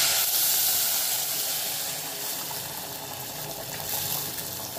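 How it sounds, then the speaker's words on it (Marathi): Hot water is poured over rice, a continuous bright hissing stream that holds steady and eases slightly toward the end. "आता आपण याच्यात गरम पाणी टाकून घेऊ."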